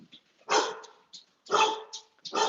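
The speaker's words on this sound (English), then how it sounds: "And my dog's barking." A dog barks indoors, three loud, sharp barks in a row, close and clear, with short pauses between them.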